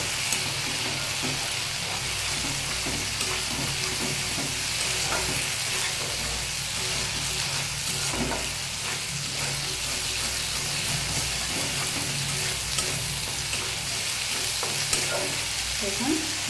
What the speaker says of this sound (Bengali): এখন এটাকে একটু সময় কেটে দেবো, মানে এটাকে একটু কষিয়ে নেব।